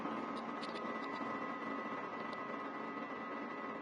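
An old video projector's cooling fan gives a steady, faint whirring hum with a constant broadband hiss, unchanging throughout and heard alone.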